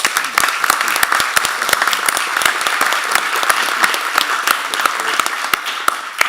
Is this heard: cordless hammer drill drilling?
no